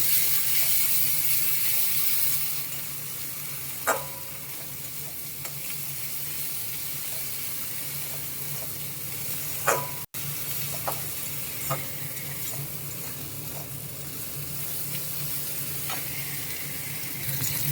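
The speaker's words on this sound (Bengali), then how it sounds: "দিয়ে একটু ভালো করে নেড়ে চেড়ে নেব।" Spices stirred in a frying pan for a katla fish and taro curry, a steady soft sizzle with scattered scraping clicks of the spoon against the pan, close and alone without talk.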